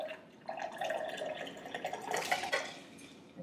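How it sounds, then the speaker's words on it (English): Homemade lemonade poured from a lidded container into a cup: a light, steady trickle of liquid with small splashes and drips, close and fairly quiet, with no talking. "We'll pour a little bit in our cup."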